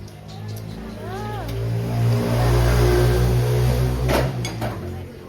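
A vehicle driven by an aunt pulls up outdoors at a rural home, its engine humming steadily and then revving louder before easing off, with people talking close by over the motor.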